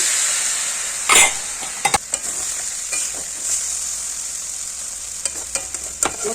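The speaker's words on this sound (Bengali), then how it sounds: "এইভাবে জল দিয়ে নাড়াচাড়া করলেই তৈরি হয়ে যাবে কচুরলতি দিয়ে শুটকি মাছ" Taro stolons with dried shrimp, onion and garlic in a little water are stirred in a pan, with a steady simmering hiss and a few sharp spatula scrapes and clicks, close by and with no talking.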